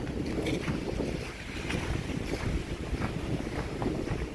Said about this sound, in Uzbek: Normalniy shamol bilan uryapti